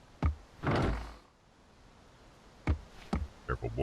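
A wooden door in the Silver Chains video game creaks and thuds shut, a short scrape followed by several dull knocks and bumps close by in a quiet room.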